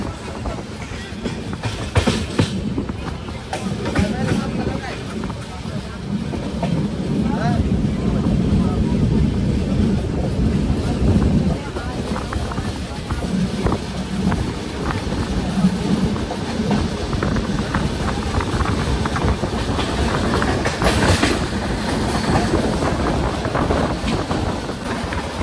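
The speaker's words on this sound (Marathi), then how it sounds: "मुंबई हैदराबाद एक्सप्रेस" A Mumbai–Hyderabad Express train rushes past at speed on a bypass line near Daund, its loud continuous rumble and rattling wheels filling the whole stretch, with a voice talking over it.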